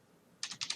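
A short burst of typing on a computer keyboard, four quick close key clicks in a tight rhythm after a moment of near silence.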